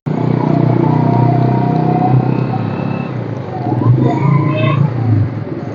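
Motorcycle riding along a hilly, up-and-down road through a tea garden, its engine rumbling loud and steady throughout with some revving, while people talk over it.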